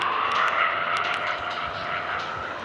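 A fighter plane's engine roars steadily in a video game dogfight against Japanese planes, a continuous loud drone with brief sharp bursts layered over it.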